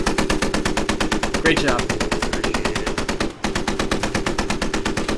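Sustained machine gun fire in the tactical shooter Squad rattles in rapid, evenly spaced bursts with a brief pause partway through, loud and close, while players talk over it.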